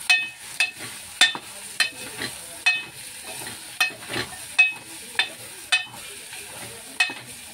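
Chickpeas and peas are stirred in a cooking pot with a utensil, making a dozen or so close, rhythmic scraping strokes spaced roughly half a second apart over a quiet background.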